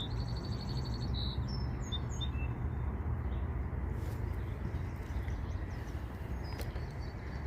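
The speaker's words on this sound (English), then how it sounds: "listen to the birds." Small birds chirp and tweet in short scattered calls over a steady low outdoor rumble beside a lake at sunset, the calls faint and somewhat distant, clustered early and thinning out.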